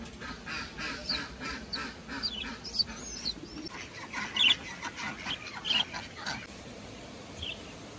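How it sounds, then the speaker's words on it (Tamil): Several turkeys gobble in bursts over a low outdoor background, some near, some farther off. "வான்கோழிலாம் நம்மளை நல்லா வரவேற்று உள்ளே அனுப்பி விடுது பாருங்கள்"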